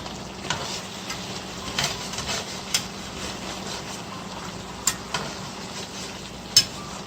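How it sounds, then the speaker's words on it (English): A spoon or spatula scrapes the bottom of a pan of stewing garden vegetables, set against a steady sizzle and bubbling, with a few sharp scraping ticks standing out now and then. "we just sort of scrape down the bottom"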